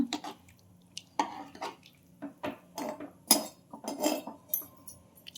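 A spoon scrapes and clinks against a cooking pot while stirring rice together with hyacinth beans, in short irregular bursts of metallic knocks and gentle scraping with quiet gaps between them.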